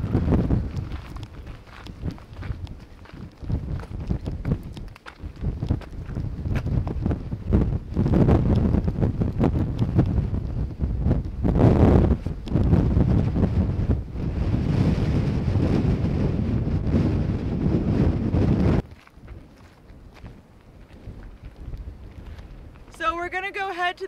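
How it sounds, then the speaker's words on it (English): Heavy wind on a clifftop buffets the microphone in loud, gusty roars that rise and fall, then ease off near the end; a voice is faintly present. "It's a little bit windy up here."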